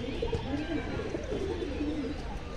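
Malbai pigeons brought from Punjab coo softly in a loft, low repeated throaty calls at a faint level, with a voice speaking nearby at times.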